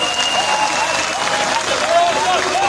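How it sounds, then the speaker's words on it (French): An audience at a political election meeting applauds in honour of two former presidents. The clapping is busy and continuous, mixed with crowd voices and a few whistle-like tones. "On applaudit pour eux."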